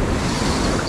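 Ocean surf washes loudly at Carlsbad State Beach during surf fishing, a brief full roar of breaking water mixed with heavy wind buffeting the microphone.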